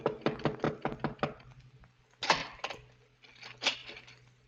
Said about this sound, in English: the knock came.